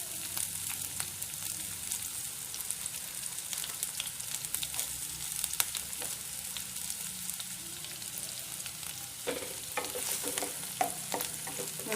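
Chopped onions sizzle steadily in a hot pan for a snake gourd fry while a utensil stirs and scrapes, with sharper clatters toward the end.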